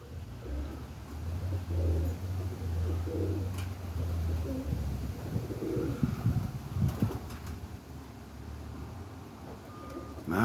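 Pigeons coo outdoors on a morning, low soft calls running through the first half with a reversing beep and a passing truck faintly in the background.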